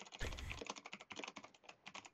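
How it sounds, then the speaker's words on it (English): Someone typing on a computer keyboard, a quick irregular stream of soft key clicks, faint and close, continuing steadily without any voices. "While she's typing it up"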